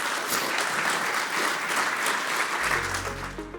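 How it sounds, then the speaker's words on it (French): Dense audience applause for speakers at a Paperjam Together business event in Luxembourg, a sustained roar of clapping that begins to thin near the end as a low hum and a voice come in. "Vous pouvez les applaudir."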